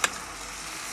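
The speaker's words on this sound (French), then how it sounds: "on cuit caramel, on est à 130 degrés" Pineapple cooking in caramel in a pan at about 130 degrees gives a steady, even sizzle throughout, with a brief tap or clink near the start.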